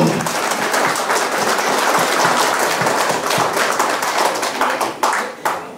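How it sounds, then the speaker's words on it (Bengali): A room full of people at a business development meeting claps loudly and evenly, a close dense patter of hands that thins into a few scattered final claps. "তো স্যারের জন্য সবাইকে বলবো একটা জোরে ক্ল্যাপিং দিতে স্যারের জন্য"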